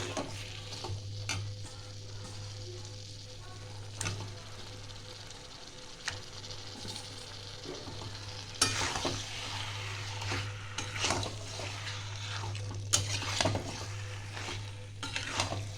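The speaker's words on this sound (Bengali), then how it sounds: "এইটা আমি 1 থেকে 2 মিনিট ভালো করে আমি নাড়াচাড়া করব।" Chicken pieces fry and sizzle steadily in spiced oil in a pan over raised heat, with repeated scraping and clinking of a spoon stirring against the pan; close and continuous, no talking.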